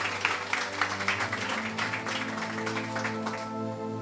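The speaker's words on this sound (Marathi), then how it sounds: "आम्ही प्रभूला जोरदार टाळ्या वाजवून धन्यवाद देऊया" A church congregation clapping loudly together in thanks, a dense burst of applause over a sustained low hum of music lasting several seconds.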